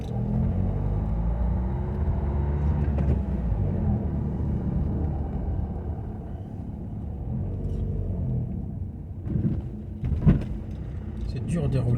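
A car rolls through the streets of La Roche-sur-Yon, France, its engine and tyres giving a steady close rumble with a few brief knocks, while someone talks over it.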